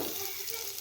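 Pointed gourd hits hot oil with a brief, steady sizzle and a hint of stirring, fairly soft and close.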